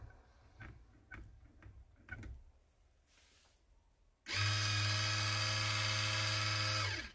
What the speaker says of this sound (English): you can see that the valve automatically closes